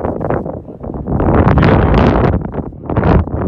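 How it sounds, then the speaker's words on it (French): Wind blowing across the Plateau de Beurre, a mountain plateau in the Vercors, buffeting the microphone with a loud, continuous gusty roar that swells and eases in waves; no voices are heard. "Il y a du vent, il fait frais."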